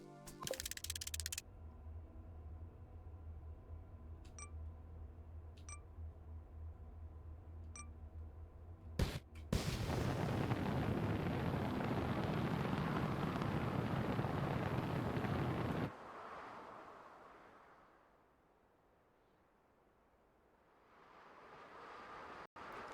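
Rocket thrusters firing on a vehicle in the game Mars First Logistics on Mars, a loud steady roaring rush that bursts on, holds for several seconds, cuts out, and then swells back in more faintly, with a few short electronic beeps before it.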